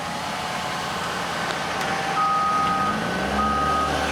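An asphalt paver backing up sounds a steady, repeating high reversing beep over a loud, rumbling diesel engine, close by and continuous.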